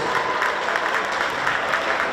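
Audience applause greeting the city mayor on stage at an award ceremony for a boxing champion, steady, dense clapping from a crowd.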